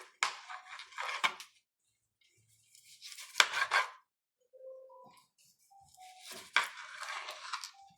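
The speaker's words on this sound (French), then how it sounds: "Donc là, moi, j'ai coupé tous mes légumes" A knife chops vegetables for a vegetable tian, heard as three close, crisp bursts of quick cutting strokes separated by near-silent pauses, with faint clatter in between.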